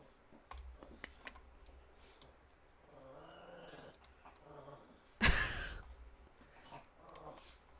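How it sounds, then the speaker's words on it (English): A Chihuahua's low, rumbling growl-like purr with faint clicks, followed by a sudden loud rustle, close and fairly quiet overall. "The Chihuahua is purring."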